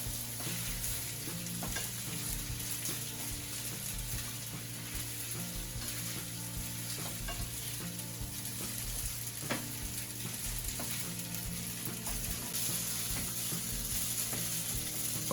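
Spaghetti noodles cooked as yakisoba crackle and sizzle in a hot pan while being stir-fried and tossed, with a continuous dense frying hiss and occasional scraping and tapping of utensils.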